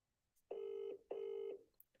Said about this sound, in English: Somebody pick up their damn phone.